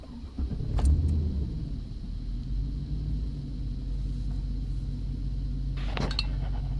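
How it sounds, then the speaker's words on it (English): A 2000 Chevy Silverado pickup engine cranks briefly and catches, then settles into a steady, close low idle rumble. A faint jingle of keys comes near the start. "Start the car."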